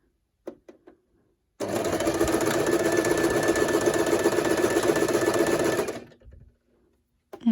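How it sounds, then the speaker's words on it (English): A sewing machine runs a zigzag stitch attaching eyelash trim to a paper craft, a close, steady whirring buzz lasting several seconds with a few faint clicks before and after. "I'm going to use a zigzag stitch to attach it."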